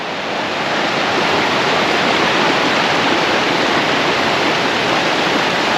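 Waterfall pouring in the Georgia and North Carolina hills, a dense, steady hiss of rushing water that holds even and unbroken throughout with no voices.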